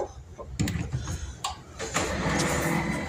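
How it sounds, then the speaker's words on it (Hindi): A printer powering on after being plugged in, with mechanical clunks and whirring motor sounds that build into a steady running hum. "प्रिंटर की आवाज़ आ रही होगी यकीनन आपको कि प्रिंटर जो है वो काम करने के लिए रेडी है"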